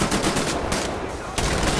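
Mounted turret machine gun in the shooter Wolfenstein: The New Order, a loud close stream of rapid evenly spaced shots, with talk at low level.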